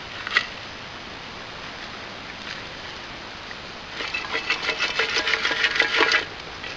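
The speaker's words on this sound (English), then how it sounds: "I'll grab my whisk broom. Need a little more dust," A whisk broom brushes loose dirt over a buried trap in a dirt hole set outdoors, giving a couple of seconds of quick, scratchy strokes after a faint tap and near-quiet handling.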